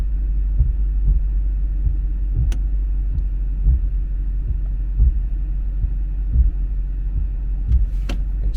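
Jaguar S-Type R idling while its gearbox is shifted into reverse, a steady low engine rumble with soft periodic thumps and clunks from the drivetrain, one sharper click near the middle and another near the end.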